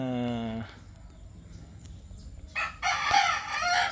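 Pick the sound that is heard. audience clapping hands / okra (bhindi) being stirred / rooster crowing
rooster crowing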